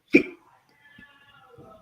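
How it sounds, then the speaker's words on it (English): A single loud, abrupt hiccup from a man bursts out close by, followed by a moment of quiet and faint murmuring voices. "The hiccups."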